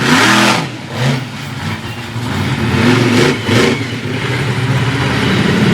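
A monster truck engine roars and revs at a monster truck show in Fredericksburg, Virginia, loud and close, its pitch climbing and dipping through repeated throttle bursts as the truck swings around toward the van pyramid.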